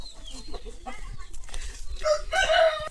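A rooster crows loudly and close by, its strained call rising near the end after a few softer clucks and rustles.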